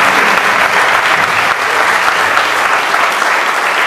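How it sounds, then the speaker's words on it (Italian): Loud, sustained audience applause at an Italian political event presenting a mayoral candidate's program and lists, dense clapping from a large crowd holding steady throughout. "Facciamo un altro applauso che non fa male."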